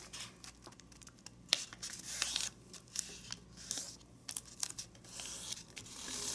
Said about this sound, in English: now let's fold the bottom edge to this point, right to the corner that we folded before